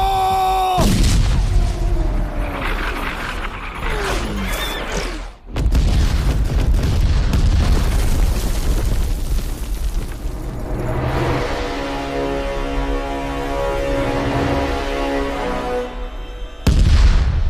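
Loud booming blasts, several in a row, like cannon fire, with rumbling and shouting voices mixed in and music rising toward the end.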